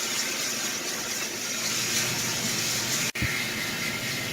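Oil-fired firebox of a 1916 Baldwin steam locomotive burning steadily, a broad continuous roaring hiss up close, with one brief dropout and a soft thump partway through.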